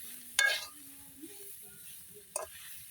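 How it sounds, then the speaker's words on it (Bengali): Pea leaf greens stirred with ginger in a pan, giving two brief scraping stirs of a spatula over a faint low sizzle, with quiet pauses in between. "এখন আদার সাথে এই শাকটা ভালোভাবে মিশিয়ে আর একটু ভাজি ভাজি করে নিয়ে এটা নামিয়ে নিতে হবে"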